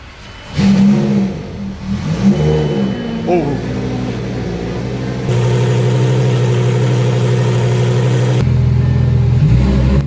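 A Lamborghini Gallardo's engine, damaged and smoking, revs in a mid-pitched roar with an uneven start that steadies into a loud, sustained drone, then swells and fades off near the end.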